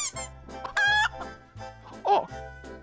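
Chickens on a farm cluck loudly and close by in several short, broken bursts, with one sharper squawk partway through.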